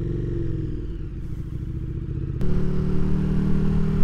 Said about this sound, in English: Hopefully you can hear the bike because it sounds amazing.